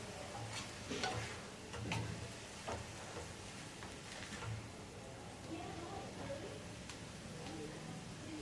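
Leafy greens cook in a covered pan with a soft, steady sizzle and scattered ticking crackles, while a person talks over the cooking.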